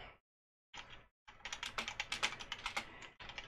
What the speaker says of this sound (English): if I end up shutting up, that's because I'm typing